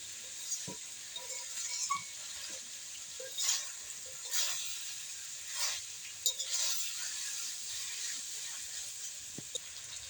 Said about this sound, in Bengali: খুব সুন্দরভাবে কষে নিচ্ছে মা।